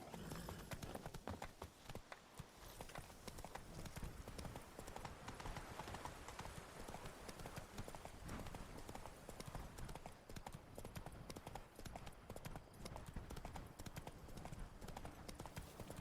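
Roach, Geralt's horse in The Witcher 3, trots along with steady, continuous clip-clopping hooves throughout, quiet and rhythmic under a faint game backdrop.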